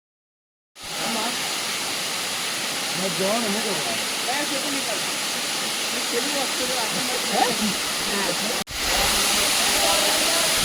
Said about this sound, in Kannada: ನೀರು ಬರ್ತಾ ಇದೆಯಲ್ಲ, ಅದೇನೇ ಫ್ರೆಂಡ್ಸ್